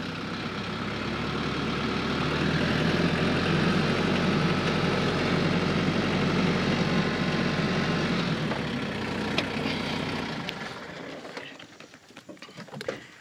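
Tractor engine running steadily under load as it eases straight forward away from a detached backhoe. The diesel drone is close and continuous, then drops off sharply near the end, leaving light clatter.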